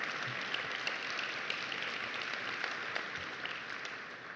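Steady applause from a seated audience at an interview event, a dense even wash of clapping held throughout at moderate level with a few sharper claps standing out.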